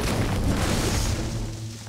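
A grenade explodes in a Fortnite match as one loud, close, low boom that fades out with a rumbling tail over about two seconds.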